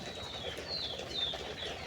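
Caged laying quail at a farm in Ishwarganj, Mymensingh, give faint high chirps and short calls over a low, steady background hum, heard at a moderate distance.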